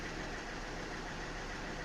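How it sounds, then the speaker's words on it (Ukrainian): A cold car engine idles at about 800 rpm, a steady, even mechanical drone with a faint knocking texture, close and continuous with no voices. "800 обертів, ну, це на холостих це поки холодний двигун"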